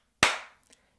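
A single sharp hand clap, made for syncing audio and played back in Premiere Pro, cracks loudly and alone, then rings off in a short decaying tail with a faint tick just after.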